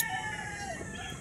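A pumpkin sweater broodcock gamefowl rooster calls faintly in one brief vocalization, alone.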